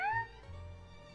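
Short cat-like meow in the Genshin Impact video game, one clear rising-then-falling voiced cry at the start followed by a fading tail.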